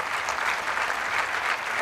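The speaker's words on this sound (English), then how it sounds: "Please, much hand clap to the panelists for today." A conference audience gives the panelists dense, steady applause, many hands clapping together in a continuous wash that stays at an even level throughout the brief moment.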